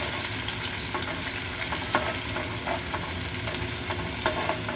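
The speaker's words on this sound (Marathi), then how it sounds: "हे छानरित्या तेलामध्ये आपल्याला परतवून घ्यायचं आहे" A medium onion with curry leaves sautés in hot oil in a pan for misal, a steady close sizzle with occasional stirring scrapes throughout, no voices.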